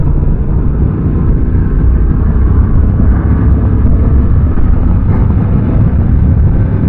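A 2023 Honda XL750 Transalp adventure motorcycle accelerates from about 50 on a test ride, its engine a steady, loud drone heavily mixed with wind rush throughout, with no voices present.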